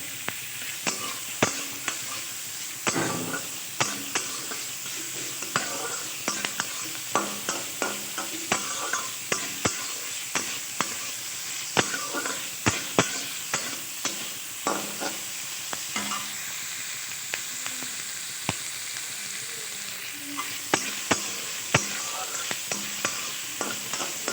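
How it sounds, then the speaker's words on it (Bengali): Steady oil sizzle with frequent sharp scraping clicks of a spatula as onion, garlic and green chili are stirred in a hot pan for a drumstick-leaf dish, close and continuous. "পেঁয়াজ, রসুন আর কাঁচা লঙ্কা একসঙ্গেই দিয়ে দিয়েছি, তেলের মধ্যে দিয়ে একটু নেড়ে ছেড়ে নেব।"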